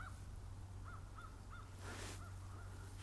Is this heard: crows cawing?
yes